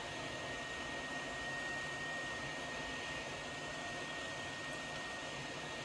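A hot air blower hisses steadily while heating solder paste on a circuit board, a constant breathy airflow with a faint high whine, close and unbroken throughout with no talking.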